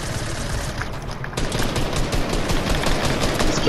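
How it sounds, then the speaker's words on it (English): Grenade launcher fire in the Fortnite video game comes as a dense, loud, continuous burst of explosive blasts and crackle. There is a brief dip in the sound before it rises again and carries on without a break. "Grenade launcher."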